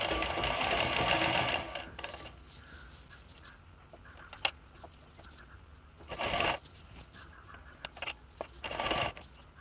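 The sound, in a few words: sewing machine stitching pleats into fabric for a frock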